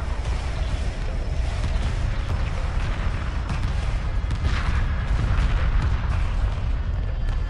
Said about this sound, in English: We're drawing heavy fire.